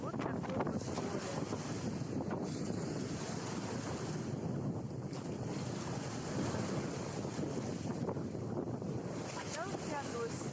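A stormy sea near Feodosia, heard from a second-floor vantage point: continuous roaring surf and strong wind buffeting the microphone, a dense, steady wash with no talk.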